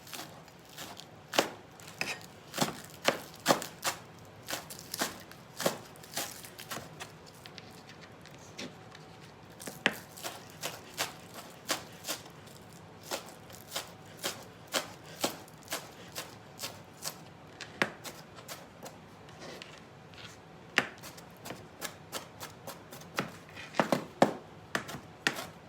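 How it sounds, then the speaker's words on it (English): A knife chops scallions on a cutting board in quick bursts of sharp, close taps that pause and restart, quiet and with no talking. "I want to chop up some of these scallions"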